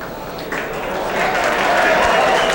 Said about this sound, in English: People are standing now, giving Tommy the well-deserved ovation here at the crowd.